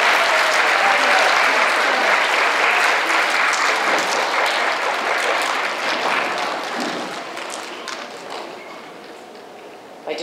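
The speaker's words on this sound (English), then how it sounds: "Let's give them a round of applause." A school awards-ceremony audience applauds fifth-grade honor roll students, dense steady clapping that gradually thins and fades over about ten seconds.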